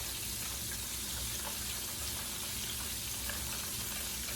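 Southern-style fried chicken sizzles in a skillet, a dense, steady hiss of frying oil that holds at one level throughout, with no voices.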